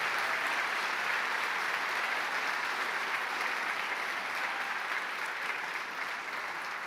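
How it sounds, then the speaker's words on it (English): A theatre audience at an awards ceremony applauds its honorees in a dense, sustained wash of clapping that stays loud and even throughout, easing only slightly near the end. "let's have one more round of applause for our award recipients tonight"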